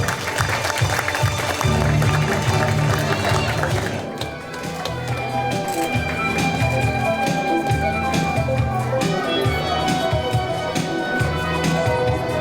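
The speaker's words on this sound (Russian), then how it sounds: "Ваши аплодисменты." Audience applause at a tennis awards ceremony honoring a tournament champion and finalist: steady, dense clapping from a crowd that holds throughout, dipping briefly before continuing at full strength.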